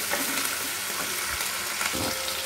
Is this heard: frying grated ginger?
yes